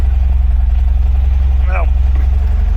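An MGB car engine idles while warming up, a loud, steady low throb with an even pulsing rhythm throughout, and a brief sound rises over it near the middle.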